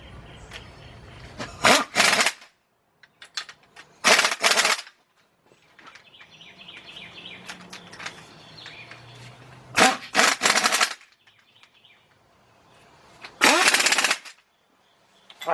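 Pneumatic impact gun set on medium tightening bolts on the 3.5-litre engine of a 2003 Nissan Maxima GLE during a partial rebuild, with five loud rattling bursts of one to two seconds each, separated by pauses with quieter shop noise.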